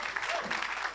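A church congregation applauding during an evangelical revival service in Abidjan: a steady, dense wash of clapping that continues without a break through the short moment.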